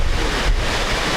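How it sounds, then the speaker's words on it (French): Outside a church, a steady loud roar of wind and rain buffets the microphone as a continuous broadband rush, with no voices present. "le vent souffle."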